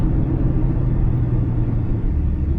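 BMW X3 M40i engine accelerating hard through the gears, its intake and exhaust droning as a loud, steady low rumble close by for the whole stretch, with no talking.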